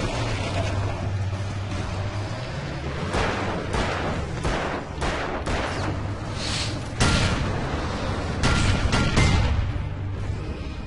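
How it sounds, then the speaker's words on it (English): Flare gun shots going off in the video game Alan Wake, a series of sharp loud bursts at irregular intervals over a low rumbling backdrop, with no voices. "Alan, shoot the flare gun."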